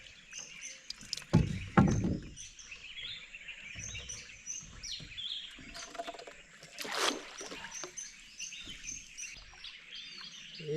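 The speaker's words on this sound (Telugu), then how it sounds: "ఏవో పెద్ద పెద్ద విచిత్ర విచిత్ర సౌండ్లు వస్తూ ఉంటాయి, పిట్టల సౌండ్, అరుపులు." Birds chirp and call steadily from the banks of the Krishna river during a fishing outing, with a few louder bursts of noise close by and soft background rustle.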